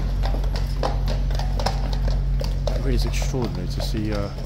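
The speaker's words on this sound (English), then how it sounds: "Here we go. New horses." Hooves of King's Guard horses clip-clop on pavement in a steady rhythm, close and clear, with people talking over them and a brief whinny near the end.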